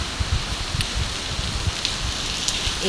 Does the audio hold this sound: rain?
yes